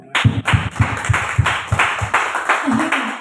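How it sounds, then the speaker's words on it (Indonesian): Congregation clapping hands during a church worship service, a run of sharp, close, evenly paced claps about four per second, strong at first and thinning out, with a voice heard near the end. "Tepuk tangan dong."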